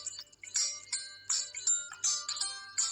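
Repeated bright chiming tones ring in short bursts, a jingly notification-bell sound effect repeating about every half second over a faint low hum, with no talk.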